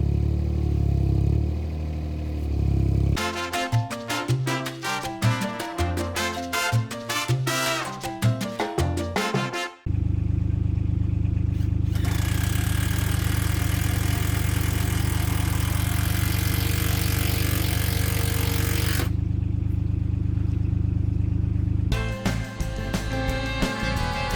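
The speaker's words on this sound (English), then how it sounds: "So we can get the digger down." A digger's diesel engine runs loudly and steadily close by during work on a budget timber greenhouse build, with rattling, clattering bursts early on, then a sustained heavy drone and a brief revving shift near the end.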